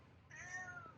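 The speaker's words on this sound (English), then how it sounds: "That's my cat." A house cat meows once, a clear drawn-out call rising in the middle of a one-second stretch, close to the microphone and fairly faint, with no talking over it.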